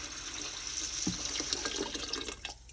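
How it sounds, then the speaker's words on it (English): Water streams into a pot filled with mixed beans and chili ingredients, a steady close splashing pour with a small clunk early on. "I'm going to add water."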